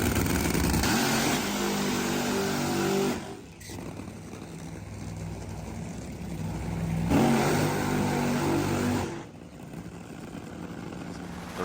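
A nitro funny car, a Dodge SRT Hellcat Redeye, roars on a drag racing track in two heavy bursts of engine thunder, with a quieter rumbling lull between them.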